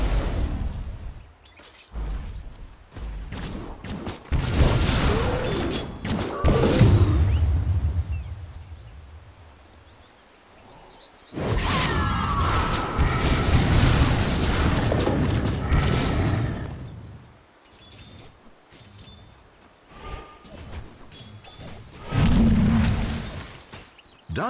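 Explosive blasts and whooshing impacts from a Dota 2 match as a tower comes under siege, arriving in loud bursts separated by quieter gaps across the stretch.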